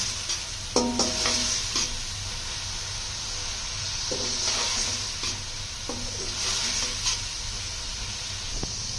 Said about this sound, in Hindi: अब टमाटर जो है इसकी अच्छी तरह भुनाई कर लेनी है कि ये टमाटर सॉफ्ट हो जाए अच्छी तरह